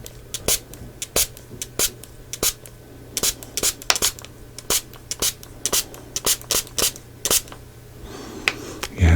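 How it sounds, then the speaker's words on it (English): A small spray bottle is pumped repeatedly during a close-up taste test, producing dozens of short crisp spritzes in an irregular rhythm, near and clear against a quiet background with a faint rustle at the end. "here come the sprays."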